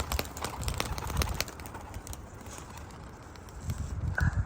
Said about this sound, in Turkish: Evet kuşlarımızı havaya verdik dostlar.